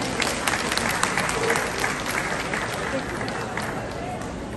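Sustained audience applause at an International Rural Women's Day ceremony in Limonade, Haiti, honouring women: dense, steady clapping from a sizeable crowd continues without pause, fairly loud and close.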